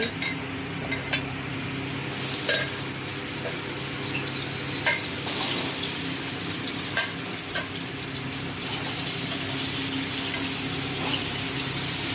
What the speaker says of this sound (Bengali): পটলটাকে ভেজে নেবো